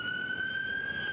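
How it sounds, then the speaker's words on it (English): Ambulance sirens wail on a Monday evening, a sustained high tone holding steady and loud over a low road rumble, with no break across the short span. "The sound of ambulances pierced the air Monday evening"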